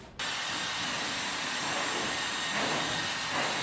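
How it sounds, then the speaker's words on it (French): A hair dryer blows steadily for several seconds while drying hair, starting abruptly as a loud, constant broadband hiss and roar with no talking. "je vais sécher mes cheveux en gros pour qu'ils soient pas trempés"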